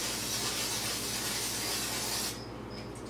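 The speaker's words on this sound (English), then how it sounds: "we need to spray it or put some oil into it" A steady, close hiss of cooking oil aerosol spray onto a waffle iron lasting a couple of seconds, then cutting off, leaving a faint background hum.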